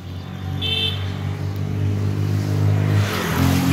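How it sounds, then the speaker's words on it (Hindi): A motorbike passes close by on a road after rain, its engine humming steadily and swelling slightly louder toward the end of a few seconds, heard alone without speech. "बाइक आ रही"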